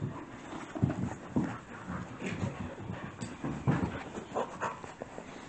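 Six-week-old puppies pant and whimper close by during play, with soft snuffles and small yelps scattered across a busy stretch.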